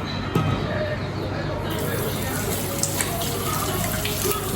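Water running steadily from a tap while freshly colored hair is rinsed, a constant close splashing hiss with a few small knocks and a voice at times underneath.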